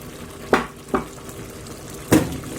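Carrot jam simmers in a pot as lemon juice goes in, giving a low bubbling backdrop broken by three short stirring or sizzling bursts.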